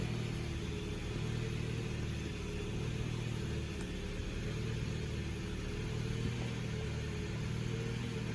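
A 2014 Jeep Patriot engine idling at about 1,000 RPM, a low, steady, faint rumble with a constant hum and no revving, heard without talk.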